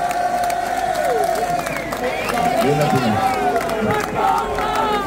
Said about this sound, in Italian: gli chiedo l'applauso e poi entrano loro due